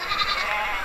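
Goats bleat at a busy outdoor goat market in Ettaiyapuram, overlapping wavering calls over a dense crowd murmur.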